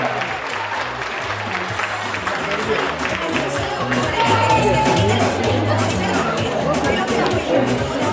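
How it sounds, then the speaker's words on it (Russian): Audience at a children's circus studio fairy-tale performance applauding loudly, a dense, sustained clapping mixed with crowd chatter and a few cheers, building slightly toward the end while a voice speaks over it. "громко аплодисменты"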